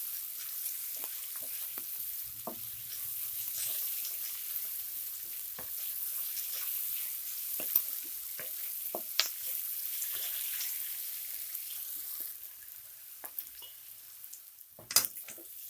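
Vegetables for veg noodles fry in a pan with a continuous soft sizzle and hiss, punctuated by occasional clinks and scrapes of stirring, fairly quiet and with no talking.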